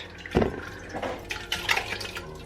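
Frozen red currants tipped into a cooking pot for redcurrant jam, giving a brief clattering rush of hard berries striking the pot, followed by softer scattered rattles and shifting as they settle, close and fairly quiet.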